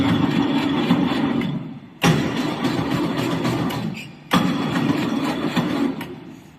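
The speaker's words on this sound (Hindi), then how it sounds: "अभी आप देख सकते हैं कैरेज हमारा मूव होने लगा" A metal lathe runs steadily, its carriage traversing under automatic feed, with a continuous mechanical whir broken by two sharp clunks as the feed engages or shifts.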